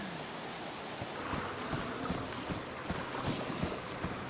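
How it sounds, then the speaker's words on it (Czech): Boat engine in the video game DayZ, a low steady droning rumble with faint rhythmic thumps under a wash of noise, distant and quiet, no voices. "Něco jde, loď."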